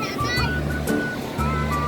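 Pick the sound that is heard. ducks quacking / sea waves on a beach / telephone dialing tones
sea waves on a beach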